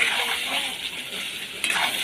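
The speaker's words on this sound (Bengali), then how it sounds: "চিকেনটাকে দিয়ে ভালো করে কষিয়ে নেবো।" Chicken pieces frying in spice paste in a pan, a continuous bright sizzle with light scraping and a sharp clink of metal near the end.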